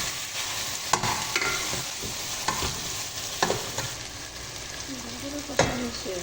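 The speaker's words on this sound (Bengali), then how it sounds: "টমেটো আস্তে কাঁচামরিচ দিয়ে সুন্দর করে আবার আমি কষাইয়া নিলাম" Chicken curry with tomato and green chillies, cooked with hatkora citrus, is sautéed in a pan: a steady frying sizzle broken by repeated scraping stirs and clinks of the spoon, close and moderately loud.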